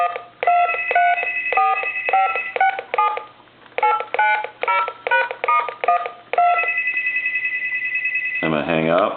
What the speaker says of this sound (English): I'm going to dial my numbers.